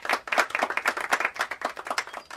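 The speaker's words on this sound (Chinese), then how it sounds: "大家掌声欢迎。" Classmates applaud in a school classroom, a brisk burst of many hands clapping in a quick, uneven patter close by, with no talk.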